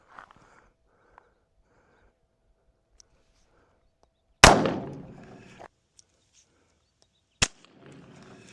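A .22 Magnum handgun is fired at a Tesla Cybertruck, giving one loud, sharp close gunshot with a ringing decay, followed a few seconds later by a second short crack amid quiet outdoor surroundings.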